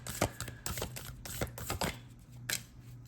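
Tarot cards are shuffled by hand close to the microphone, a run of crisp riffling bursts and taps in an uneven rhythm, loud and with no one talking.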